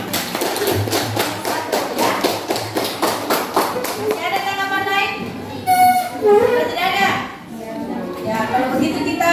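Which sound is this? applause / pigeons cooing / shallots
applause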